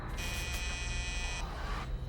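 A front door buzzer at a workplace on a night shift sounds as a steady electronic drone for about a second, thin and tonal over a low background hum, then cuts off.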